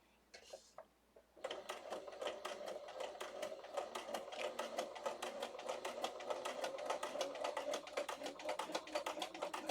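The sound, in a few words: sewing machine stitching a sewing folio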